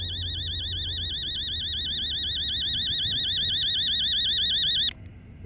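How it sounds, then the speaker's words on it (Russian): An alarm clock rings in the horror video game Fears to Fathom: Home Alone, a harsh, rapidly warbling electronic tone that sounds loud and constant for about five seconds before cutting off abruptly. "Это такой мерзкий будильник."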